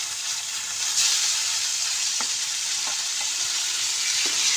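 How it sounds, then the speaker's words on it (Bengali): Fish pieces fry in mustard oil in a frying pan, giving a constant bright sizzle and hiss close up, with a few faint clicks of a utensil. "এরপর আমি মাছগুলোকে একটু লাল লাল করে ভেজে নেব।"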